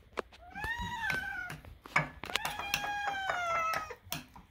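A kitten gives a few thin, quiet meows in quick succession, each a short rising-and-falling cry, close by with light handling noises between them.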